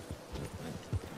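Horse hooves clip-clop at a walking pace in the Red Dead Redemption 2 video game, quiet and muffled, with a few low thuds over a steady background noise.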